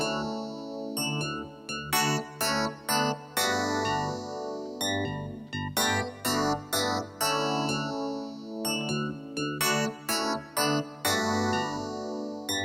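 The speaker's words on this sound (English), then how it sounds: "in this case, I used FM8, which is a great FM synthesizer" Retro 80s-style FM electric piano patch from the FM8 synthesizer plays a bright, bell-toned chordal riff with rhythmic stabs and sustained tones, steady and full, with no voices.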